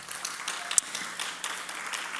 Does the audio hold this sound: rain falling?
no